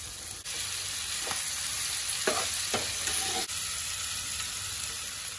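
Paneer cooking with soy sauce in a frying pan, a steady close sizzle with a few sharp scrapes and knocks of a spoon stirring through it.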